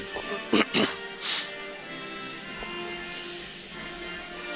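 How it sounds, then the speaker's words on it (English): A radio announcer coughs a few times in quick succession during a West Virginia high school basketball broadcast, Martinsburg at Stafford, sharp close bursts followed by a brief throat sound, with faint arena ambience underneath. "Sorry to keep coughing in your ear"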